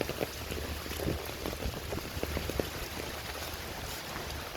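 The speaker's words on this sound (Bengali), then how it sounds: "বৃষ্টি প্রচুর পড়তেছে এই বৃষ্টিতে" Heavy rain pours down steadily in a village setting, a dense, even wash of drops with scattered close patters, continuous and fairly loud throughout with no talking.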